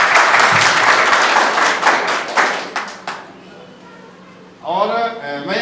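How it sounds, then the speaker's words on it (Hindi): An audience claps loudly for a guru at a team celebration in Amarkantak, a dense burst of applause that fades out over about three seconds, followed by someone speaking over a microphone. "महाराज जी के लिए एक बार जोरदार ताली बजाएंगे।"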